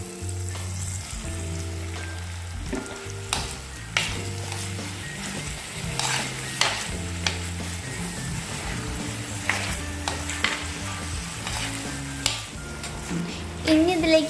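Tomato frying in a pan for brinjal curry, a steady close sizzle with a spoon stirring and scraping the pan in repeated strokes, plus a few light clinks of the pot.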